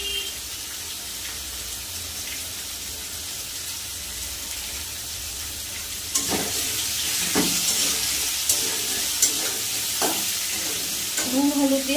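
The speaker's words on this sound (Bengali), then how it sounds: "নুন হলুদ দিয়ে আলুটা একটু ভেজে নেব" Potatoes frying in a pan with salt and turmeric, a steady sizzle with stirring that grows busier partway through, close and clear with no talk.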